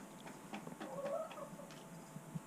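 Soft, distant clucking and low murmurs from backyard hens settling into a coop, intermittent and quiet over faint ambient noise, no talking.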